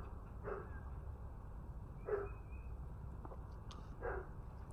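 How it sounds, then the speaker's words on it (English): A dog barks three times in short, evenly spaced bursts, fairly faint and distant against steady outdoor background noise. "Excuse my dog barking in the background."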